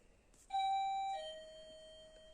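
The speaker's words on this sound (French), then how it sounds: "Vous avez certainement entendu la sonnette." A doorbell chimes indoors in a French home, a clear two-tone ding-dong with a long ringing decay, loud and alone with no talk.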